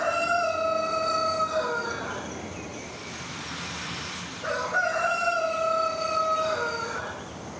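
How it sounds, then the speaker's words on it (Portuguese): A rooster crows twice, each call a long, loud, drawn-out cry separated by a few seconds of quieter background. "Esse galo é seu"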